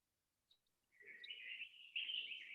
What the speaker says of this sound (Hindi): और चिड़ियों की चहचहाट सुनकर